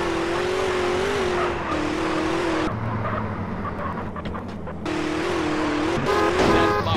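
A car drives through traffic in GTA San Andreas with a steady engine drone, horn-like tones and engine pitch changes, all fairly loud and continuous with no speech.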